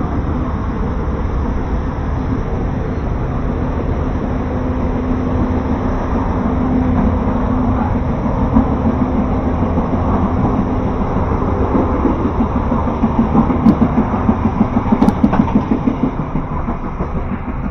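Steady low rumble and rolling rail noise fill a crowded carriage of the KA Probowangi train, continuous and fairly loud throughout, with faint clicks near the end and no talk.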